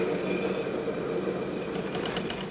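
A hand-cranked axial flux alternator spins steadily, giving off a continuous whirring, mechanical hum that holds at an even level throughout, close and fairly loud, with no talking.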